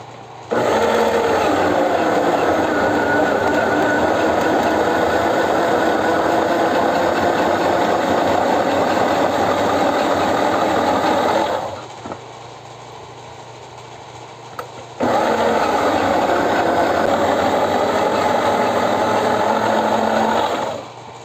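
A home juicer machine runs with a loud, steady motor whir while making fresh juice, briefly drops to a quieter hum for a few seconds, then returns to full power before stopping.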